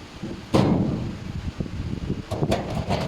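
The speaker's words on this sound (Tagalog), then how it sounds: "Kabit yung ating drawer slide." A metal drawer slide is fitted onto a grey four-drawer metal filing cabinet, with a sharp clunk followed by a run of close, rattling metallic clicks and taps.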